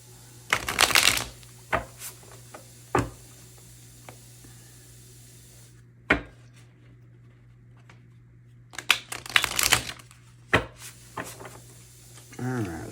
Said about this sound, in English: I want to pull a couple of of these cards too